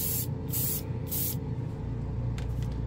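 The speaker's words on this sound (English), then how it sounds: "Yeah, the airbrush is good." Airbrush spraying paint onto plastic, heard as three short hissing bursts followed by a fainter spurt over a steady low rumble.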